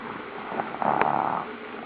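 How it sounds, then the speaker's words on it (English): A small child fakes a snore on request, giving one short nasal, rumbling snort-like breath that swells briefly in the middle and then fades, quiet against a soft indoor background. "Show Mummy how you snore."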